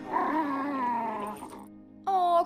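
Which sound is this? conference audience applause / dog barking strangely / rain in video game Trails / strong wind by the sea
dog barking strangely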